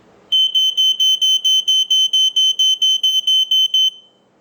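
A FireX FX1218 smoke alarm beeps loudly during a test in a rapid, steady series of about a dozen sharp, high-pitched chirps, then stops.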